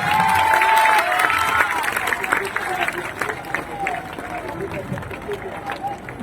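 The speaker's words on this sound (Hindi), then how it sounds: "जोरदार ताली बजाइए।" A crowd at a political event in Bihar breaks into loud applause and cheering, dense at first and then easing off, with a voice speaking over the clapping.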